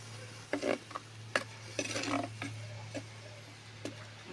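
A ginger, garlic, tomato, cumin and fennel paste is sautéed for a Trichy-style chicken curry, heard as intermittent close scraping strokes of a spoon against the pan over a low steady hum.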